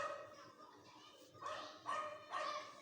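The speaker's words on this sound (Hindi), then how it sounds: "कुत्ते भी भौंकेंगे पूरी तरीके से" A dog barks in the background, three short muffled barks in a loose rhythm, fairly faint and heard from a distance.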